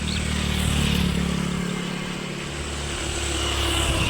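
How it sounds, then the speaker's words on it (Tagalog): Motorcycles passing on a roadside in the early evening, a loud, steady engine drone that swells slightly near the start and then holds as a continuous traffic rumble. "maingay yung mga dumadaan na motor"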